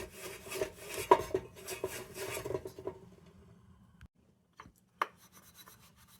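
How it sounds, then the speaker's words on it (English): Steel wool rubbed against a metal CB lantern while polishing it, producing soft scratchy strokes that are busy at first, then thin out to a few isolated scrapes near the end. "polishing a little bit with steel wool"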